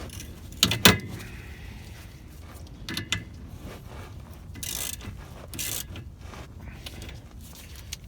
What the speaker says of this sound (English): It's kind of a neat ratchet.